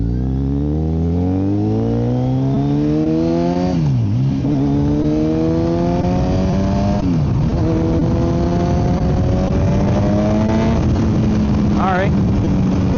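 A Kawasaki Z900 motorcycle with a full M4 exhaust and ECU flash accelerates up through several gears, its engine note climbing steadily then dropping at each shift, loud and close with wind noise throughout.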